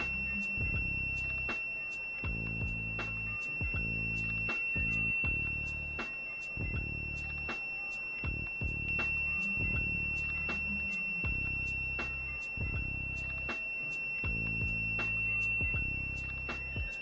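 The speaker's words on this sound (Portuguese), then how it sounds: "O próximo nível de alarme ele aciona o sinal sonoro também." A Danfoss gas detector's external beacon sounds an ammonia alarm as a steady, repeating electronic tone pattern, looping in rhythmic pulses over a low mechanical hum, with no voices.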